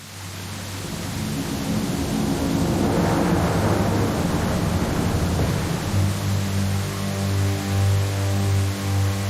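Thunder from an approaching storm in the video game Psychonauts 2 swells into a long, loud, broad rumble that peaks midway and keeps rolling under a low steady tone, with no talk.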